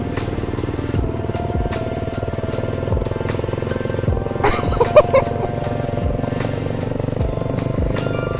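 A motorcycle idles nearby with a loud, lumpy, popping exhaust rumble, steady throughout with a brief rattle partway.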